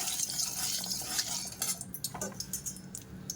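Soybeans frying in a metal wok (kadai) for soybean and egg fried rice: a steady hiss of sizzling under scattered clinks and scrapes of a utensil against the pan.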